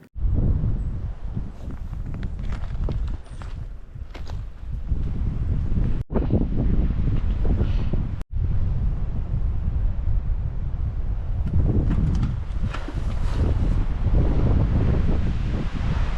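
Strong, extremely cold wind on a winter hike in the Nagano mountains, roaring steadily and loud against the microphone for the whole stretch, with gusty swells and brief dropouts and no voices.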